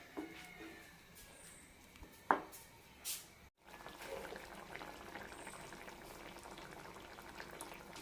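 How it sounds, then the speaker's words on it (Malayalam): A roasted-coconut potato curry bubbling at a steady boil in a pot, a quiet continuous simmer with a couple of brief clinks partway through. "2 മിനിറ്റ് നന്നായി തിളപ്പിക്കാം."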